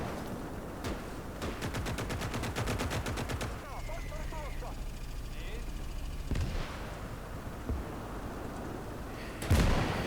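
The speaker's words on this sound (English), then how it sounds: "Artillery's returning fire." Rapid machine-gun bursts and distant artillery booms in the Gates of Hell wartime strategy game, Finland campaign, with steady battlefield rumble and a sharp blast near the end, while someone comments over it.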